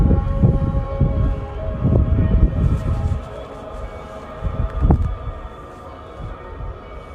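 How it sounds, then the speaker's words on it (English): A recorded call to prayer in Jordan sounds at the same time as church bells, making a wavering, distant-sounding drone layered over low rumbling outdoor noise. "you'll hear a recording I made of the call to prayer that is going on simultaneously with the church bells."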